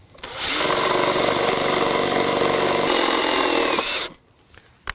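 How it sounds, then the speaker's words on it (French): Cordless screwdriver driving a self-drilling screw into a steel joist of a deck frame, a loud steady whirring grind for about four seconds that stops abruptly, followed by a small click. "on va visser avec des vis autoforantes évidemment et une visseuse"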